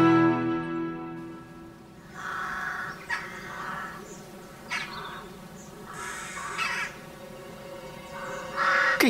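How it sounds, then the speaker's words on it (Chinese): A crow caws repeatedly outdoors at moderate distance, a few harsh calls spaced across the stretch over a low buzzing insect-like background, with no one speaking. "该死的乌鸦！"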